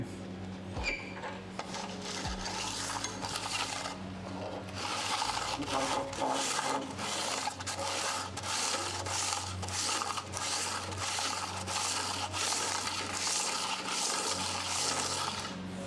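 Sandpaper rubbing during fabrication work on a tuned vehicle, a steady rasping scrape with repeated back-and-forth strokes, close and continuous under background noise, with no talk.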